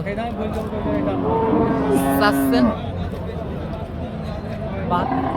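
A cow at a busy cattle market moos once, loud and close, in a long drawn-out call, while people chatter and a crowd murmurs all around.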